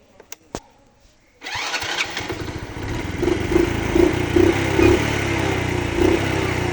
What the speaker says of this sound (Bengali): সেলফের স্টার্ট যেটা দেখো